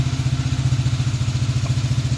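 A Mule utility vehicle's engine runs at a steady idle on a ranch, a close, even, rapidly pulsing thrum with no change in pace.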